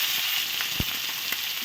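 Boiled potatoes and cauliflower frying in hot mustard oil, a steady dense sizzle with a few small pops, close and continuous.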